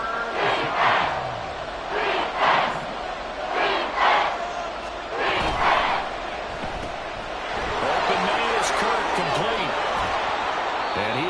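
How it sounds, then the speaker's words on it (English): A football stadium crowd at a playoff game roars and cheers in waves, a broad distant swell that builds toward the end, with a play-by-play announcer talking over it. "Well, this crowd into it now."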